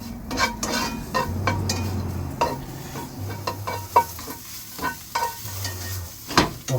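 Chanterelle mushrooms cooking with melting honey in a pan, a soft steady sizzle broken by repeated clinks and scrapes of a utensil stirring against the pan.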